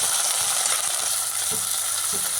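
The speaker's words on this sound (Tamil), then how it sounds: "ஒரே ஒரு தக்காளி சின்ன துண்டுகளாக நறுக்கியிருக்கிறேன்" Small pieces of chopped tomato frying with onion in a pan give a continuous close sizzle, with occasional soft stirring knocks and no voices.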